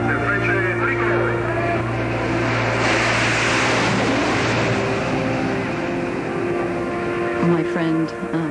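Frecce Tricolori aerobatic jets pass over an air show, a loud broad roar swelling to a peak midway and fading, with crowd noise and a voice under it.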